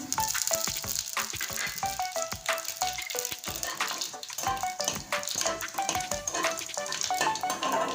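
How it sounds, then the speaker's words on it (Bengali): Radhuni seeds tempering in hot oil while cooking a vegetarian mixed-vegetable curry, a steady close crackling sizzle with dense popping throughout and no talk. "এবার ফোড়নে দিব রাঁধুনি ফোড়ন দিয়ে দিচ্ছি"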